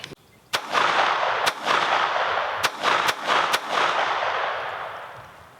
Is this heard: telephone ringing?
no